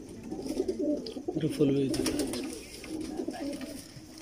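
A large pigeon coos in low, soft rumbling phrases close by, with other pigeons around it, under a voice and light background noise.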